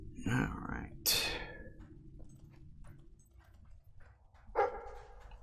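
A dog in the video game Fable 3 gives a few short barks and yips spaced across a few seconds, set against a quiet game background with someone speaking.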